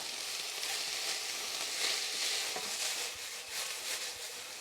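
Beef and garlic sizzle steadily in a hot pan while being stirred, a continuous bright frying hiss with small scrapes of the spoon, fairly close and with no talking.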